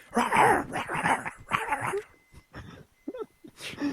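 A person barks and yips in imitation of a dog, several sharp voiced bursts followed by shorter whimpering yelps, close and fairly loud.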